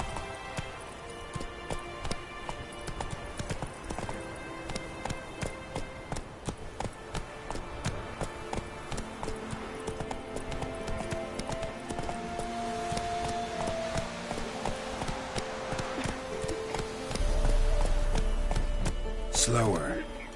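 Roach the horse gallops in The Witcher 3, with rapid rhythmic hoofbeats drumming steadily at moderate volume beneath a person talking.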